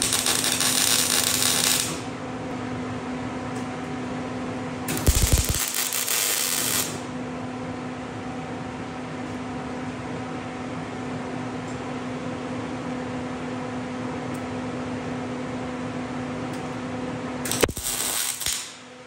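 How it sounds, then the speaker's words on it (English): Short bursts of tack welding on rocker panel sheet metal for a split-window coupe, two or three crackling buzzes a few seconds long each, separated by a steady shop hum and fan noise with no talk. "Let's tack weld this on."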